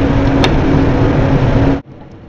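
A grinding wheel works the edge of a replica Tlingit double-headed dagger blade: a loud, steady, rough whirring grind with a low motor hum that cuts off abruptly near the end, leaving quiet room tone.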